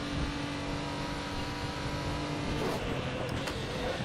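Lotus GT4 race car engine in the RaceRoom Racing Experience game, a steady, loud drone that holds at high pitch with a faint bump near the end.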